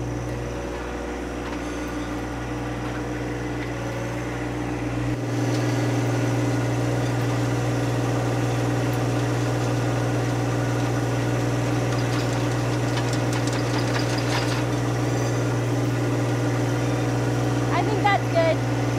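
A John Deere 1025R subcompact tractor working bushes with forks: a steady idling diesel hum rises to a higher, louder drone as the revs increase, with faint clanks over the sustained engine note and someone talking.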